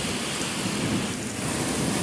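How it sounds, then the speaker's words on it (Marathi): Heavy unseasonal rain pours down on a village road in the Konkan, a dense, steady hiss of downpour close by with no voices, continuous for the whole stretch. "पाऊस जोरात आलेला आहे"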